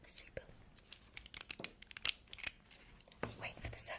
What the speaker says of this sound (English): Here's the sound of the seatbelt.